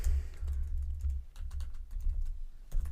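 Typing on a computer keyboard while survey answer choices are entered, a steady run of close, fairly loud key clicks with short pauses, no talking.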